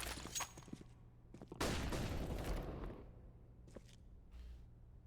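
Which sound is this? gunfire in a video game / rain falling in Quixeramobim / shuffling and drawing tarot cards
gunfire in a video game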